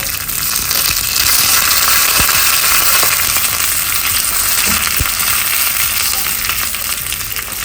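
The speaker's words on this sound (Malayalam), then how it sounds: "ഉണക്കമുളക് ഇടാം, വറ്റൽമുളക്, കൂട്ടത്തിൽ കരിവേപ്പിലയും." Dried red chillies and curry leaves frying in hot oil for a kalan tempering, with a loud, continuous close-up sizzle and a few sharp pops and crackles scattered throughout.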